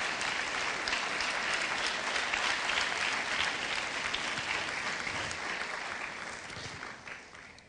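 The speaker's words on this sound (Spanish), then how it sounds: "damos una ofrenda de palmas al Señor Jesús" A church congregation applauds at length during a Spanish-language sermon, dense clapping holding steady and then slowly fading toward the end, with no speech over it.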